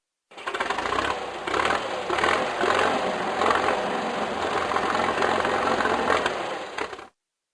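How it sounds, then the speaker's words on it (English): A tractor engine chugs with a rapid, even knocking rhythm for about seven seconds at moderate loudness, starting and stopping sharply, with no one talking. "Tractor,"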